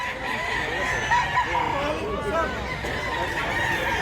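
Roosters and hens at a busy outdoor rooster market in Mantalongon, Barili, Cebu, with repeated crowing and clucking over a steady hubbub of people talking nearby.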